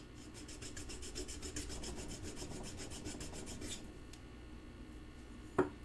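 Something is sanded by hand with quick, rhythmic rasping strokes, about a dozen close scrapes that then slow and thin out, ending with a single sharp knock, quiet and without talk.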